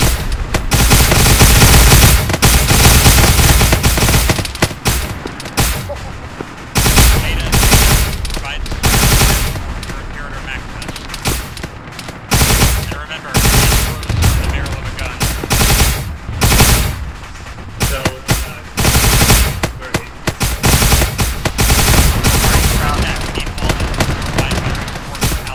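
Loud, sustained machine-gun and rifle fire from the Combined Arms: Emperor's Hammer game rattles in long bursts and volleys with brief gaps, dense and close, while players talk over it.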